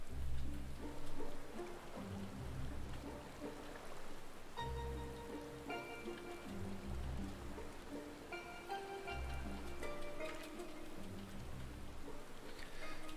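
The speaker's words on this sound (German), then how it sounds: "es regnet" Rain patters steadily across a Final Fantasy XIV game scene, a soft, even wash running beneath louder melodic music throughout.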